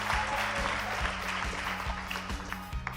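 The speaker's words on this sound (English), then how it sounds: "Let's applaud him as well as he gets his trophy." An audience claps for a student receiving a trophy at a school competition finale, a steady wash of applause with a repeating low rhythmic beat running underneath throughout.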